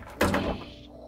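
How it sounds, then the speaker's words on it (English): Old door in the basement of an abandoned Portuguese noble palace, swung with a sharp, loud thud and a brief grinding creak that fades within a second. "Doors make a lot of noise."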